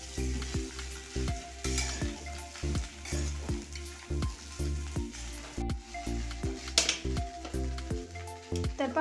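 Kande pohe, flattened rice with onions, sizzles in a hot pan while a spoon stirs and scrapes it in a steady rhythm, a continuous close frying crackle under the repeated strokes.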